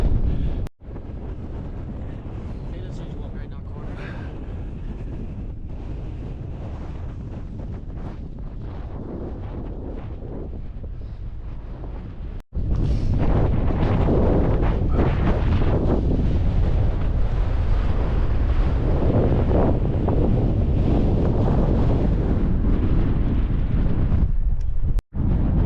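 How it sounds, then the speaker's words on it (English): Stormy wind roars and buffets the microphone on the summit of Slieve Donard in the Mourne Mountains. It is loud and continuous, with a brief dropout around the halfway point before it resumes even harder, and no one speaks. "Storm."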